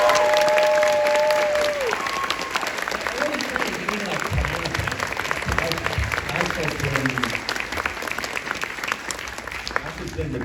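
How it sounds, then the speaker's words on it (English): A crowd at a New York Comic Con panel breaks into sustained applause with scattered cheers, the clapping rising quickly and continuing steadily as a voice speaks over it. "I just want to hear a round of applause for Joshua Williamson."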